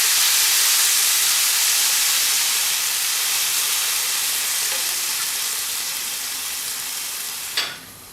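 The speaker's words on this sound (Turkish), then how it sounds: "Ördeğimizin suyundan piyavamıza döküyoruz." Duck cooking juices poured over rice pilaf in a baking dish, giving a steady, close hiss and sizzle that slowly eases off, ending with a brief clatter near the end.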